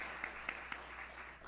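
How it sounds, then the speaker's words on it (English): Audience applause at a school program, a soft, steady patter of clapping from a crowd with a few sharper individual claps standing out. "Please give her a round of applause."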